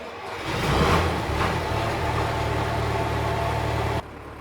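An old Belarus tractor engine drives closer outdoors, a steady low diesel rumble that swells in loudness early on, holds even and close, then drops away abruptly near the end.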